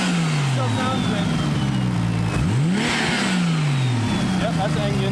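A drift car engine at Kern Raceway revs up and down in repeated swelling sweeps, with a sharp rise and fall midway, set against constant loud background noise.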